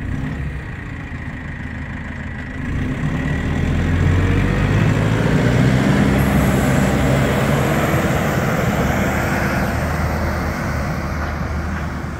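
A Hangcha FD50 forklift with a Cummins diesel engine drives around a yard, its diesel drone rising and holding steady as it moves, loud and fairly close, with no talk.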